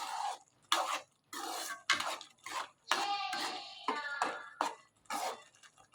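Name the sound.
spoon stirring mango pieces into sago payasa in a pot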